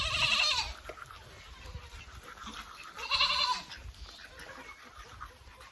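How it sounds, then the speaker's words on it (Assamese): Village goats bleat in two distinct bursts, the first at the start and another about midway, each moderately close, with quiet rustling between and no talk. "আমাৰ ছাগলী, দিদিৰ ছাগলী এইকেইটা।"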